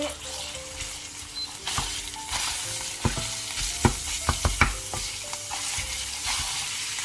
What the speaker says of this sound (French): je fais revenir ail et oignon ensemble